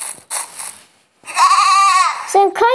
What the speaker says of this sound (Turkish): ne güzel bir keçi.